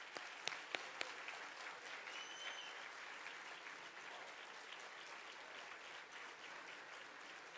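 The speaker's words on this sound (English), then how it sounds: "So I want to give a special round of applause to my dad." A gala audience breaks into sustained applause for an honoured guest, with a few sharp individual claps at the start before the clapping settles into an even, continuous wash heard from a distance.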